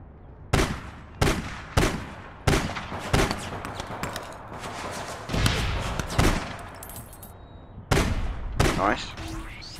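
Gunfire in the online shooter APB Reloaded, with a series of sharp, loud shots in spaced bursts over roughly ten seconds, some single cracks and some short rapid volleys, with faint game sound between them.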